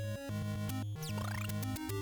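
Chiptune music from the NES game Kid Icarus buzzes along in bright square-wave tones, with a quick rising laser-like sweep effect cutting in midway.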